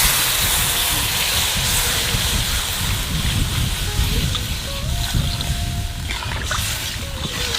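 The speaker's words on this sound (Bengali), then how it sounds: "আনে জল দিয়ে দেবো।" Water poured onto sizzling fried spices in a pan for a large fish curry sends up a loud, steady hiss and roar of steam and bubbling that stays constant throughout, close by and without speech.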